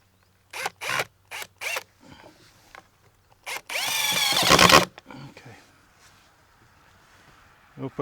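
A power drill drives screws into a deck stair rail in one loud, close whirring burst of about a second, between short knocks and scattered talk.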